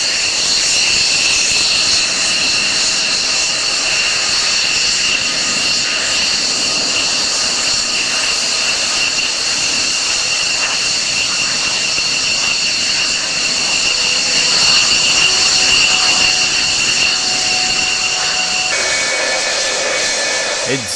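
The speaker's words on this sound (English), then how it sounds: "Getting nice and close with the aircraft as they start to taxi out." A jet aircraft taxis close by, its engine whine loud and steady throughout, a high tonal hum holding over a constant roar.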